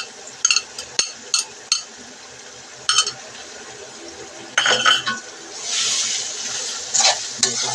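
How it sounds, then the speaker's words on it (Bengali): Onion, salt and garlic stirred in a cooking pot, with a spoon clinking against the metal in scattered taps and scrapes over a soft frying sizzle, then a louder burst of hissing near the end. "ভালো করে নেড়ে চেড়ে দেব।"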